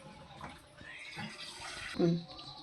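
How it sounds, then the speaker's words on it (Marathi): Small baby pomfret fish are rinsed by hand in a bowl of water, with steady close swishing and splashing and a louder slosh near the end. "ह्यांना धुवून घ्यायचं हे बघा पाणी बघा किती घाण झालेलं आहे"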